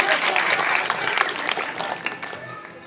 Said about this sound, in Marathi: पहिल्या तुमच्यासाठी टाळ्या आमच्या